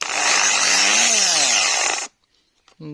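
An MTZ PTs-3200 electric chainsaw, just repaired, runs with a loud, high motor whine for about two seconds, then cuts off into silence followed by a brief knock.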